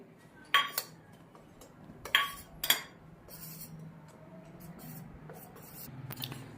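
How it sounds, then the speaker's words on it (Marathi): A spoon stirs custard powder into a little milk in a small bowl, giving a few sharp metallic clinks against the bowl's sides, then a softer scraping swirl with faint background hum. "इथे मी वाटीमध्ये दूध घेतलेलं आहे थोडं, त्यामध्ये ही कस्टर्ड पावडर टाकून मिक्स करून घेत आहे"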